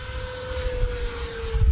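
A Freewing F/A-18C Blue Angels 90mm RC jet makes a fast pass with a steady, loud, whining roar that holds level throughout and swells slightly at the end.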